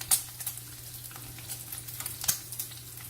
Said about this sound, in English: that bacon looks like it's almost done